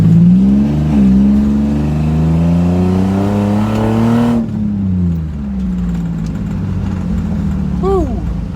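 A lowered Infiniti G35 accelerates hard down a straightaway, its engine revving loudly with rising pitch through the gears, heard from inside the car, then easing off as a voice exclaims near the end.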